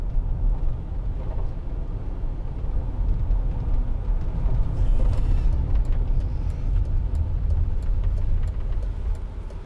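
A 2008 Mercedes-Benz SLK200 Kompressor roadster with a 1.8-litre engine drives on the road, its steady low engine drone and road rumble continuous and close throughout, with no talking.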